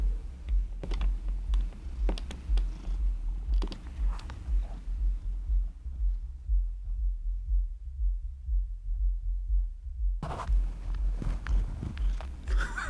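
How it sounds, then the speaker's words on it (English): Low, rhythmic rumbling purr close to the microphone, pulsing steadily and breaking off briefly in the middle. "He's like purring."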